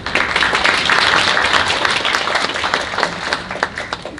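An audience at a panel discussion claps in welcome for a policy researcher, a full burst of applause that swells, then thins out and trails off.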